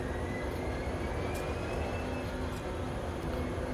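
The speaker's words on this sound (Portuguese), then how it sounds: "eu vou pro lado direito para dar partida à locomotiva" A locomotive in the train simulator Train Sim World starts up with a steady, loud mechanical rumble and a faint rising whine, continuous throughout.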